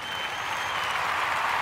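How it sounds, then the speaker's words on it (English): An applause sound effect: dense, steady clapping from a crowd fills the whole short stretch at an even, fairly loud level, with no talking over it. "Yes, I will take the applause."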